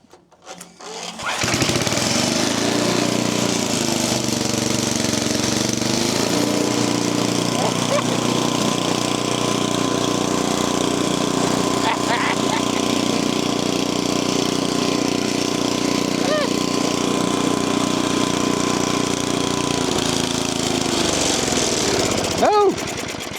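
A brush cutter engine sputters into life and then runs steadily at a loud, close, rough idle for over twenty seconds, a continuous buzzing rattle before cutting out at the end.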